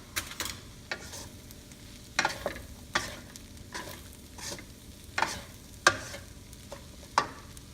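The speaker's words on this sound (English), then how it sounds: "And our spring onions. And we'll give it a good mix." Fried rice with spring onions and green mango stirred in a pan, a spatula scraping and clacking in irregular bursts over a soft sizzle, close and without talk.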